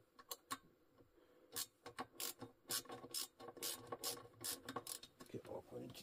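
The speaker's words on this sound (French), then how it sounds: "petite clé de 8 et une douille de 8. Et on dessert tout ça." A socket wrench with an 8 mm socket ratcheting while loosening carburetor bolts on a motorcycle, quiet close bursts of rapid clicks, sparse at first and then in quick repeated strokes, no talk.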